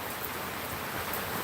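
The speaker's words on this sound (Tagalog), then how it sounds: "Lakas po ng ulan." Heavy typhoon rain makes a dense, steady hiss that fills the whole short stretch evenly, close and loud with no talking.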